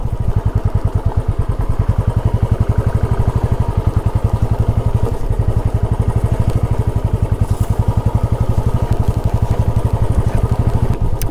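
Motorcycle engine running steadily on a rough jungle forest track on the way to a village, a loud, close, continuous pulsing drone with light clatter throughout and no talking.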